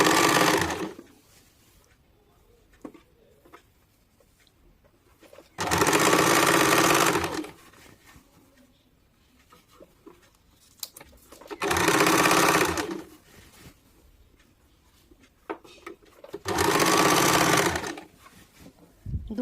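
Sewing machine stitching the panels of a six-panel petticoat, running in three loud, steady bursts of about two seconds each, separated by quiet pauses.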